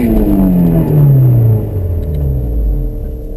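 An autocross-prepped Honda S2000 on a drag strip revs loudly, and its engine note sweeps downward as the rear tires spin through a burnout. A steady rumble carries on after the pitch falls, with no voices.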